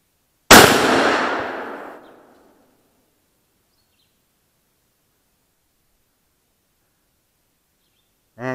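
A single loud, close report comes from a Marlin XS7 .308 rifle fired at a LiPo battery, with a long rushing decay over about two seconds. Silence follows, then a brief voice begins at the very end.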